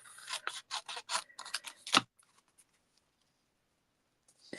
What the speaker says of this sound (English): I'm actually going to cut a bit of that off.